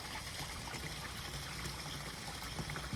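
Water pours and trickles steadily for a few seconds, a soft continuous splashing stream with no voices.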